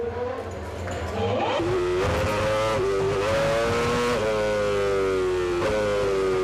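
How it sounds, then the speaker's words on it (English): Formula One Renault race car heading out onto a track lined with cheering Turkish fans, its engine revving loudly and climbing through gears in a steady, close, continuous scream. "Then it was time for Alonso to head back out on the road"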